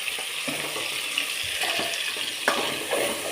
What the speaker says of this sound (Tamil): அரைச்சி வச்ச தக்காளி ஊற்றிக்கிடலாம்.